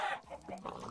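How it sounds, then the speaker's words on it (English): A Minecraft chicken clucking in a brief burst of short, clipped game clucks, fairly quiet and heard alone. "Oh, chicken."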